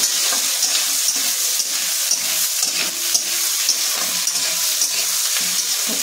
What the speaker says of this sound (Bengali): দেখুন আমাদের পেঁয়াজগুলো ভালো করে ফ্রাই হয়ে গেছে, ভালো ভাজা হয়ে গেছে